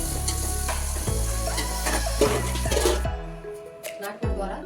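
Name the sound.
tomatoes, onions, chillies and curry leaves frying in a pan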